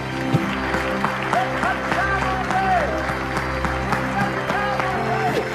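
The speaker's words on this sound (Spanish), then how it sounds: "Dale un aplauso grande al Señor en este primer mensaje del año." A church congregation applauds during a sermon, a steady wash of clapping lasting several seconds, mixed with sustained musical tones and some voices in the background.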